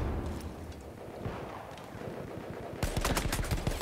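Battlefield 1 gunfire crackles in rapid bursts of shots, with a louder, denser volley of close automatic fire breaking out near the end.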